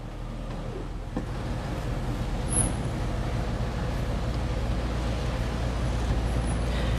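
A 1956 Chevrolet Fastback's engine idles steadily after starting, a constant low rumble with light mechanical chatter throughout, close and even, no voices.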